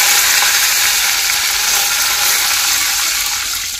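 Loud, steady sizzling as curry leaves hit hot oil with dried red chillies, a bright crackling hiss that fades slightly toward the end, with no voices.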